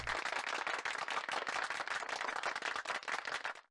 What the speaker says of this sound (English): the following applause makes a wave of relief wash over me